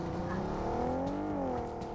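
Vehicle engine in a multiplayer battle royale shooter game, a steady whirring drone with a rising and falling pitch throughout, fairly faint.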